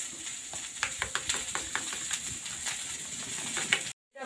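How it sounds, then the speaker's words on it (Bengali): Cauliflower florets fry in a pan coated in mustard paste, turmeric and amchur, giving a soft steady sizzle broken by repeated light scrapes and stirring taps before a sudden cut to silence. "ফুলকপিগুলো ভাজতে ভাজতে আমি আমচুর নিয়েছি, আমচুর নিয়েছি এবং সরিষা বাটা এবং হলুদ নিয়েছি"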